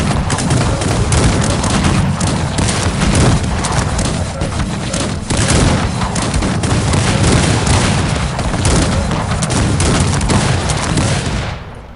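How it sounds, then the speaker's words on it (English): Dense, continuous musket volleys and booming cannon fire from an English Civil War battle in the Cossacks 3 strategy game, loud and unbroken for the whole stretch, fading slightly at the end. "Stop shooting, men."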